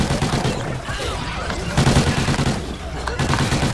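Rapid gunfire from a Call of Duty: Ghosts Extinction split-screen match, a dense, continuous rattle of shots with swelling bursts under steady game noise throughout.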